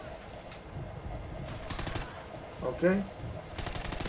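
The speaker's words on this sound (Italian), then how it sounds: "Vabbè, ragazzi, io sto sparando aria, ragazzi. Sto sparando aria." Call of Duty Ghosts gunfire rattles in rapid automatic bursts, moderately loud, with someone speaking briefly between them.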